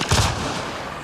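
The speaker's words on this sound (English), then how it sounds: "I have placed a mod on it that turns this rapid-fire assault rifle into a rapid-fire grenade launcher" A rapid-fire grenade launcher modded from an assault rifle in Mass Effect Andromeda lets off one heavy, booming blast followed by a rumbling, decaying explosion tail that lingers loudly for about a second.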